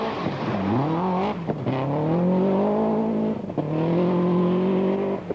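Carlos Sainz's rally car on a RAC Rally stage, engine revving and rising in pitch through gear changes, with brief dips between shifts; a loud, sustained run with no voices.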